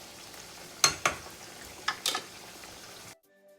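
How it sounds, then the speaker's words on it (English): Potatoes deep frying in hot oil, a steady soft sizzle broken by a few sharp scrapes and knocks as they are stirred, close up, ending abruptly in near silence. "we put the potatoes in the oil. We're gonna deep fry them, and I'm going to stir them occasionally"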